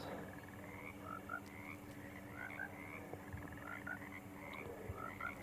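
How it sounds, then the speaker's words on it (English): Frogs croak steadily in the opening of the video game Alone in the Dark, a repeated pulsing chorus of rattling calls over a low ambient hum, soft and unbroken throughout. "Everything starts with a frog."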